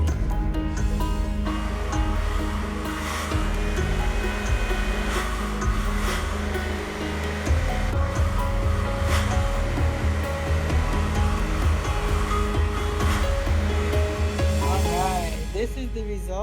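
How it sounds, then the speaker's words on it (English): Continuous close whoosh of a hair dryer blow-drying hair, a steady loud airflow with slight shifts as it moves, and a voice speaking over it at times. "This is the result of the blow dry."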